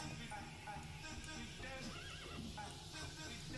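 Cartoonish horse whinny from the auto-battler game Super Auto Pets, a short wavering neigh rising out of busy game music and effects, with faint talk underneath.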